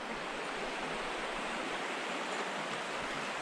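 Steady broadband rush of river water flowing on the Mad River during a tubing trip, an even, continuous wash with no voices, fairly quiet and unbroken throughout.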